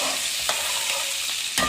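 Thinly sliced green chillies sizzle steadily in hot oil with cumin for a samosa filling, a constant close frying hiss with a couple of faint stirring scrapes.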